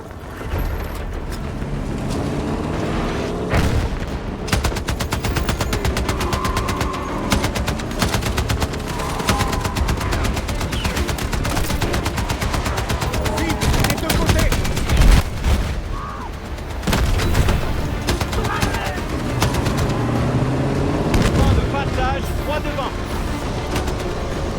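Machine gun fire in the video game Battlefield 6, a dense, continuous battle mix of rapid gunshots and booms running loudly throughout, with someone talking over it.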